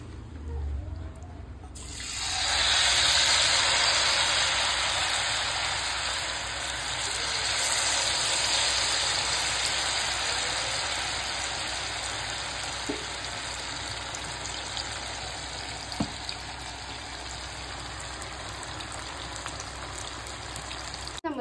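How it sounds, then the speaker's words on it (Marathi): Vegetables deep-frying in hot oil for veg crispy, a loud continuous bubbling sizzle that swells early, eases slightly and holds steady throughout. "आणि हे सगळं तळून घ्यायचे आपल्याला आधी."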